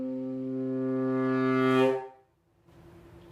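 A saxophone quartet's sustained chord swells steadily louder, brightening sharply before cutting off abruptly into near silence, followed by faint low rumble.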